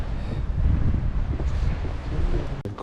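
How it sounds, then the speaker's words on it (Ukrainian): Strong wind roars and buffets against the microphone, a steady low rumble with gusting surges throughout. "Прогулявся, але вітер ужасний, ужасний, приужасний."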